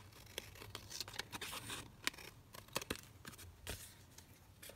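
Scissors snip at a fabric pocket in short, irregular cuts, close but quiet, with rustling of the cloth between the crisp clicks.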